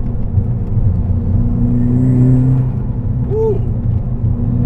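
A big-turbo Volkswagen MK6 GTI with a limited-slip differential pulls hard out of a corner, its engine a loud steady drone from close by with no talk over it.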